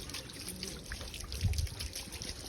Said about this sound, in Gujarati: આ બાજુ ચોકડીમાં પાણી ચાલુ હોય ગાય પાણી પીવે